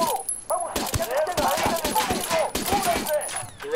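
Quick, sharp gunshots in Ghost Recon Wildlands, firing in short rhythmic bursts under excited voices talking.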